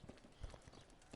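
Horse hooves clip-clop in Kingdom Come: Deliverance, several quick, soft hoofbeats falling in an uneven rhythm during a brief quiet stretch.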